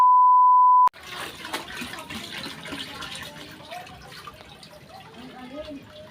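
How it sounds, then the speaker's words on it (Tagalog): Water pours and splashes into containers being filled at a neighbour's tap, a continuous gurgling, trickling flow. A short electronic tone comes first, and voices talk over the running water. "Habang tayo nagsasali ng tubig."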